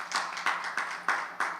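A gathering greets a senior advisor coming up to speak with a few loud, rhythmic claps in unison, evenly spaced hits in a close, reverberant room.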